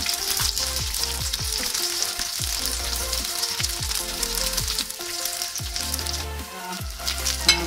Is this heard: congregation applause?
no